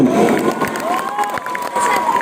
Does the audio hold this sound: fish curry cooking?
no